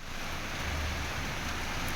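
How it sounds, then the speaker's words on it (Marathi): Steady rain pours down during a sudden Diwali-season shower, a constant dense hiss of drops on surfaces, close and even throughout, with no voices. "सारखा पाऊस येतोय"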